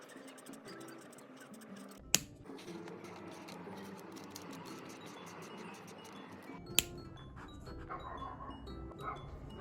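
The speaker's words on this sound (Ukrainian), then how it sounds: "треба було їй почати гавкати" A dog barks a couple of sharp times amid steady rustling and scratching close by, with faint whimpering and panting sounds around it.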